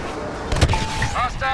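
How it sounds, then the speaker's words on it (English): A homing missile attack in Star Wars Battlefront lands as a sharp blast midway, followed by electronic whistling tones and warning beeps over game background noise, with no talking. "They're trying to get a lock on you. Heads up, homing missile!"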